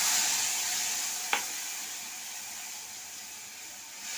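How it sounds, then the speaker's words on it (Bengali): Spice paste drops into hot oil for mustard hilsa, giving a steady close sizzle and hiss with one brief sharp spatter near the start, no voices. "এবার তেলটা গরম হয়ে গেছে, আমি মশলাটা যে গুলেছিলাম ওটা দিয়ে দিলাম।"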